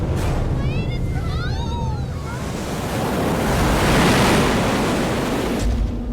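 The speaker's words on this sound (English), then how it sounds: "One of these big waves breaks directly over the middle of the boat." A loud rush of ocean waves and wind builds into a heavy crashing surge over a boat, with squeaky creaks early on.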